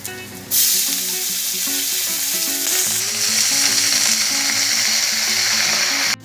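Chopped radish greens hit hot oil already frying with peanuts, garlic, green chilli and black cumin, setting off a loud, sudden sizzle that crackles steadily on, with occasional stirring.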